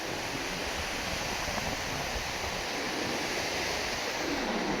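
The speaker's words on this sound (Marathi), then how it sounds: "समुद्र बघा कसा खवललाय" Loud, continuous roar of rough sea surf on the Konkan coast, with wind noise buffeting the microphone, steady and close throughout, no voices.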